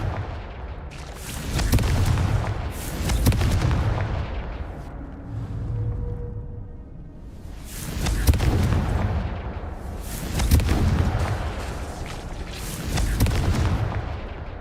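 Repeated fiery spell explosions in the Hogwarts Legacy video game, loud booming blasts in several heavy bursts with rumbling decay and a brief quieter lull between them.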